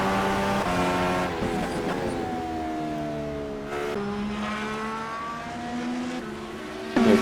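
IndyCar race car engines in a sim racing game at Road America drone loudly and continuously, several high-revving notes rising and falling together through gear changes and corners, with a brief throttle lift and a sharper rev near the end.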